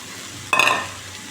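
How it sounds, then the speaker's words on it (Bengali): Capsicum hits hot oil in a pan on a gas stove with a sudden, close sizzle that fades over a fraction of a second. "গ্যাসটা বাড়িয়ে দিই এখন ক্যাপসিকামটা দিয়ে দিলাম"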